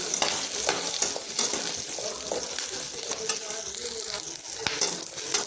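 Onions and green chillies sauté in a pan with a continuous close sizzle, broken by scattered scraping ticks of stirring.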